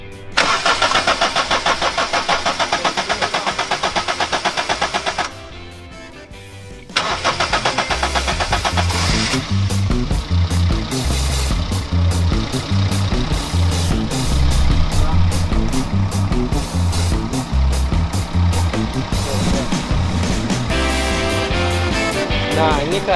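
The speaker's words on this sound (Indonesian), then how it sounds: "Etios tahun 2013 dalam keadaan mesin masih bunyinya masih halus" A 2013 Toyota Etios car engine cranks and catches loudly, stops briefly, then restarts and settles into a steady, smooth running hum, heard up close and alone.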